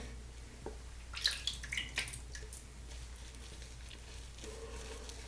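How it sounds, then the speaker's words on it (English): A touch of water drips into shaving soap lather, with a few soft wet drips and squishy brush sounds close by, quiet and brief against a low background hum. "I'm going to add just a touch of water to that."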